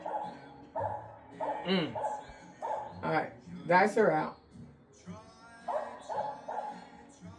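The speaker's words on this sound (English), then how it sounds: "usually in the casino, you don't have a dog barking in the background either" A pet dog barks repeatedly in bursts nearby while someone talks over it.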